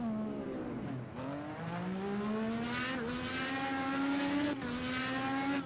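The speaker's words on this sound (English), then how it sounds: "the amount of backfiring that car was doing just there" An Indycar in Project Cars 2 racing at the Lone Star Indy GP, its engine rising and falling in pitch with several sharp backfire pops and crackles between the revs, close and steady.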